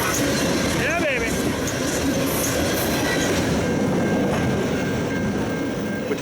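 A Canadian Pacific freight train led by SD90MAC and SD30ECO locomotives rolls past at close range in a steady, loud rumble, with brief wheel squeal and a faint horn-like tone early on.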